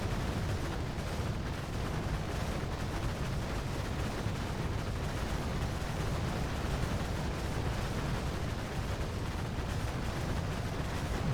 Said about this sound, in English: the ASMR sound of millions of cannon towers shooting at infernals